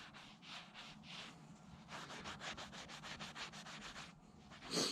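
A cloth rubs polish residue off an engine piston in repeated close strokes, a steady scrubbing swish with no talking.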